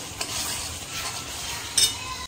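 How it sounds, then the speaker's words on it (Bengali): Masala of dried red chillies, Kashmiri chilli powder and turmeric being fried and stirred in a pan for dhaba-style chicken kasha, a soft steady sizzle with scraping stir strokes and a brief louder clatter near the end. "এখন মশলাটা ভালো করে কষিয়ে নেব"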